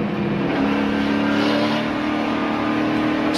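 Loud, steady roar of SRX race car engines at Stafford Motor Speedway, a continuous high-pitched drone with a slight swell as cars pass.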